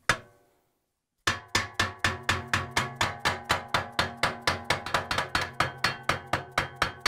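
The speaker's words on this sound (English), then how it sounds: "I'm gonna use a plastic mallet to break loose the spider arm connections to the drum." Plastic mallet striking the spider arm on the drum of a Samsung washing machine: one blow, a pause, then a long steady series of about twenty close, evenly spaced knocks, each ringing briefly.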